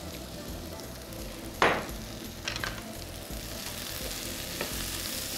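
Vegetables with turmeric and sorrel sizzle steadily in a hot pan, a constant frying hiss broken by a sharp burst and a few stirring scrapes.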